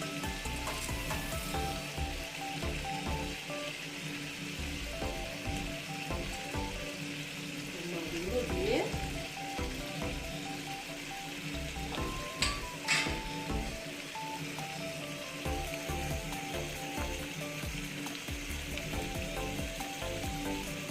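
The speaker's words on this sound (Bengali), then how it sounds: "দেখো এইবার আমি ফুটে গেছে দেখো আমি মাছগুলো দিয়ে দিচ্ছি" Pabda fish is added to a boiling mustard and poppy seed sauce in a pan. A soft, steady sizzle and bubbling continue throughout, with a few faint utensil clinks.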